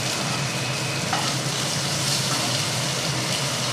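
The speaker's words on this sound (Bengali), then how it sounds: "দেখুন আলু ভাজা হয়ে গেছে এক পাশ এবার অপর পাশটা একটু উল্টে ভেজে নিচ্ছি" Potato slices fry in hot oil in a pan, a dense, steady crackling sizzle that fills the scene up close without pause.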